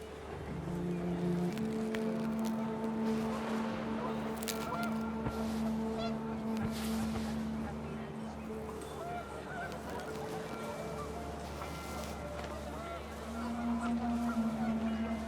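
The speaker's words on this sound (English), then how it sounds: "The wind picked up, and panicked geese appeared and quickly went." Panicked geese honk repeatedly in What Remains of Edith Finch, a steady flock chorus over wind and ambient noise, with a narrator's voice partly over it.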